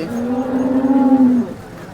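A cow at a cattle market moos once, a loud, close, drawn-out call lasting just over a second and fading at the end, with no talk over it.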